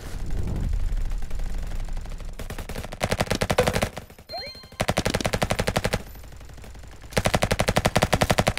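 Rapid bursts of light machine gun fire in a Roblox first-person shooter, loud and close, coming in several long sustained volleys separated by brief pauses, with no talking over them.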